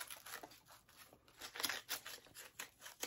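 Snipping and crinkling as a package is cut open with scissors, a quick series of soft close cuts with rustling between them.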